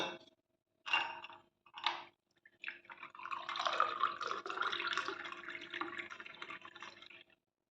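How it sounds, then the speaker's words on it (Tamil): Herbal dry ginger and coriander decoction (kashayam) poured through a strainer, with a few short trickles followed by a steady close liquid pour that fades out near the end. "மூலிகை கஷாயத்தை வடிகட்டிக்கலாம்"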